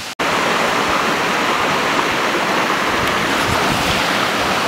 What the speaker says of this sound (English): there's that nice waterfall you just saw.